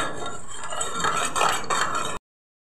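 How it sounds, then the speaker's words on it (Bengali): A spoon stirs a salted mixture in a metal pot, making steady close scraping and clinking for about two seconds before cutting off abruptly. "তুই মেশা মেশা, আস্তে আস্তে ভালো করে মেশা, পড়ে যেন না যায়।"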